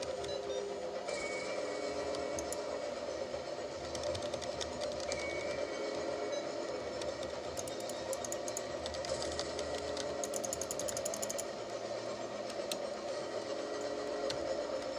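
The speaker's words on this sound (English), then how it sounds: "So the train's moving?" A moving train in the video game Poppy Playtime gives a steady, faint mechanical rumble with a rhythmic clattering hum that runs unbroken throughout, with no talking.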